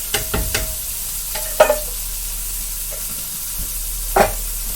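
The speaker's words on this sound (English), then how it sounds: "In my sauce pot now, I'm also going to add that can of tomatoes that I had open." Canned tomatoes poured into a sauce pot for a slow-cooked pork ragout, giving a few short sizzling splashes and stirring clatters with quiet stretches between, close and moderately loud.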